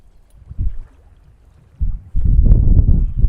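Gusty wind buffeting the microphone on open water while trolling from a Hobie kayak in whitecap conditions, low rumbling blasts that grow stronger and steadier toward the end.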